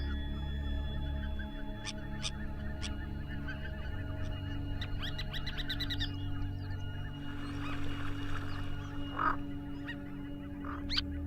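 Geese and other wildfowl honking on a coastal refuge, scattered calls near and far over a steady low hum of background noise, with no talk.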